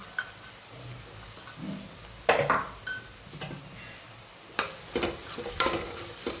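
Masala of red chili powder, salt and chutney stirred into a spinach curry in a pan, with soft sizzling and sporadic metallic spoon scrapes and clinks against the pan, close by, no talking.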